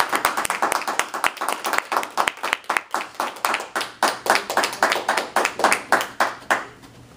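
An audience at a Toastmasters meeting claps to welcome a speaker, with steady clapping from a small crowd that stays even and then tapers off near the end.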